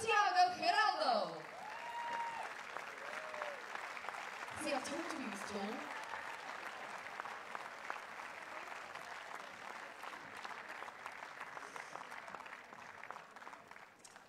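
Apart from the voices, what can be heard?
audience applause welcoming tennis players at a match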